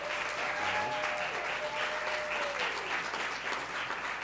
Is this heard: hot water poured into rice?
no